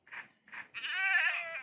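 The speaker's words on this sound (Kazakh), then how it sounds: "Тау ешкі ғой достар." A mountain goat bleats nearby: two short calls followed by a longer wavering bleat, alone with no talk.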